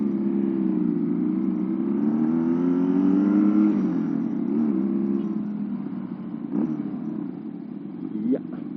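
A modified Honda Astrea Prima motorcycle converted to a two-cylinder engine revs and runs steadily, a near, loud engine drone with rising and falling pitch and a brief blip near the end.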